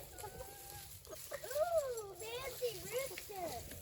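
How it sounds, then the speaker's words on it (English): Chickens, including a rooster, cluck and murmur close by on a homestead in the season's first snow while people talk softly over them, the bird calls rising and falling in short warbling phrases. "he's a good looking rooster"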